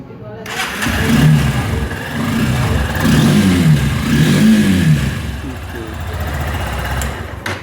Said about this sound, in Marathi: बाईकचा साऊंड तुम्ही ऐकून घेतला.